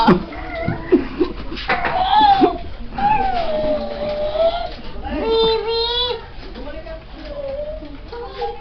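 Several drawn-out, wavering meows from a cat, close by, mixed with a voice and chatter in the background.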